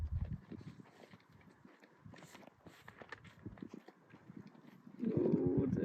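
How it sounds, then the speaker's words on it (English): Horse hooves clip-clopping at a riding show, a steady run of fairly faint, irregular hoof falls with outdoor background noise, ending in a louder, denser burst of sound. "this next horse is my favourite"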